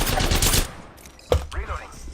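Gunfire in the shooter game Apex Legends, with a dense burst of shots at the start, a sharp loud report near the middle, and quieter scattered shots afterward.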